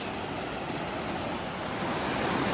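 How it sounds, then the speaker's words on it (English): Kennedy Creek rushes steadily and loudly close by on a mountain trail, a continuous broad wash with no pauses. "Here we have Kennedy Creek."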